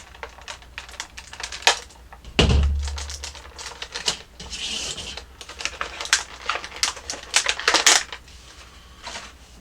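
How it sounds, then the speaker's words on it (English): Plastic and cardboard packaging of a Transformers Back to the Future DeLorean toy being handled during unboxing: rapid crinkling, tapping and scratching clicks, close up, with one heavier thump partway through. "packages make so much noise"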